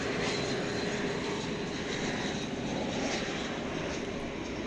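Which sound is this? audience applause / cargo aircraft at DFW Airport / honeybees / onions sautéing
cargo aircraft at DFW Airport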